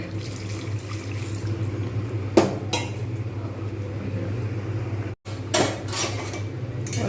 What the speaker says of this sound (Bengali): এইবার আমি এর মধ্যে অল্প একটু ব্যবহার করব গরম জল